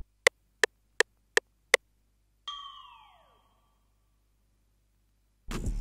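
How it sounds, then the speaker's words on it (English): Odd accent one-shot from Nico Baron's One-Shot Kit: five quick, crisp ticks in a steady row, then a gliding downward whooshy tone that fades out, followed by silence and a burst of noise at the end. "I then added this other accent, also from Nico Baron's One-Shot Kit"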